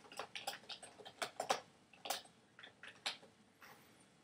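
Quiet, irregular clicks of typing on a computer keyboard, light taps in uneven bursts with short pauses, faint and close with no talking.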